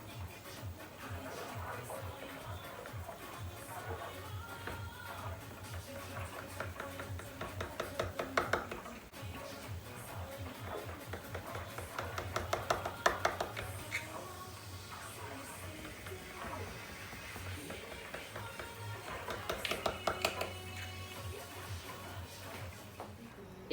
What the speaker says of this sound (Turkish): Burada tereyağım erirken istediğim boyutta baklavamı keseceğim